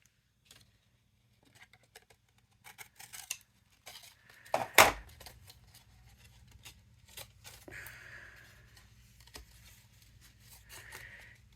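Scissors snipping through paper while a heart-shaped paper box is made: sparse, faint cuts and rustles, one sharper close snip near the middle, no talking.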